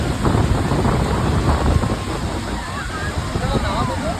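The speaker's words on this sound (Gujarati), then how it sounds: "જુઓ દરિયાના મોજા પણ કેવા ઉછળી રહ્યા છે અહીંયા" Sea waves surge and break at Mandvi beach in Kutch, a loud, continuous rushing wash close by, roughened by wind buffeting the microphone.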